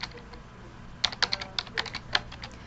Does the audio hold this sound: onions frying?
no